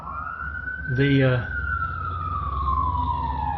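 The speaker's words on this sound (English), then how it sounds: "Remember, when you hear that siren" A siren wails in a long, steady tone that slowly falls in pitch, heard at a distance, with a brief spoken word cutting in partway through.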